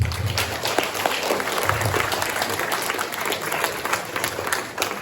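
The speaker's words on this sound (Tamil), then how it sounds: "இன்னும் பலத்த கைத்தட்டல் ப்ளீஸ்." Audience applause at a Tamil community gathering, a dense, even roar of many people clapping that holds steady for several seconds with no speech over it.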